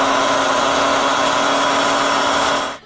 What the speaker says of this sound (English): Now I'm gonna blend it all up until it's smooth